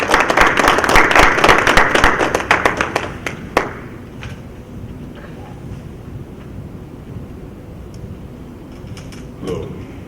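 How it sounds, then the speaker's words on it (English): Audience clapping at a spoken-word poetry cypher event, a dense, fairly loud burst of applause that thins into scattered claps and fades within a few seconds, followed by quiet room tone and a few faint taps. "Give him a warm round of applause."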